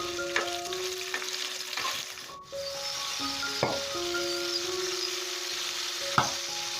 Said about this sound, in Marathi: मिरची जी आहे ती आपल्याला एकदम जास्त न भाजता थोडीशी तिचा कच्चा पण निघून जाईल एवढी परतून घ्यायची आहे